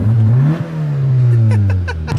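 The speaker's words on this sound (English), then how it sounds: "Let me show you a little bit of this VTEC going on right now" A Honda Civic EJ1 with a VTEC engine revs up loudly close by, the pitch climbing then falling and swelling again, with a brief laugh near the end.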